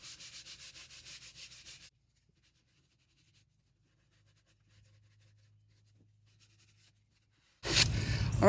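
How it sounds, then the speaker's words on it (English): A sanding sponge rubs along the grain of wooden drawers in quick, rhythmic back-and-forth strokes for about two seconds. A long near-silent pause follows, then a louder burst of close, rough scraping at the end. "And the drawers, I'm going to sand with the grain across that way."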